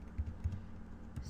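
Quiet, close keystrokes on a computer keyboard as a command is entered, a few soft irregular taps with a faint voice in the background.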